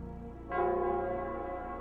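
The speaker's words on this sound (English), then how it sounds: "it's the Nell Squares bell" A bell from the video game, its tone struck at once and sustained with a steady ringing decay over a low hum, loud and close with no talk.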